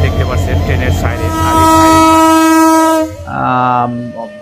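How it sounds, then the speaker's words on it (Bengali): A train horn blares at Mirzapur railway station, a long sustained harmonic blast after rumbling station noise, then a second shorter honk near the end, loud and close. "ট্রেনের সাইরেন"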